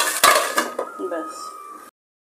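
A metal spatula scrapes and clanks against a pan while fried leafy greens with salt are stirred. A few loud clinks and scraping strokes come close up, followed by brief fading rattles before the sound stops abruptly.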